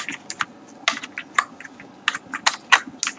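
Brisk computer keyboard typing while code is entered for a CSS webpage animation, irregular clusters of close, crisp key clicks with short pauses between bursts.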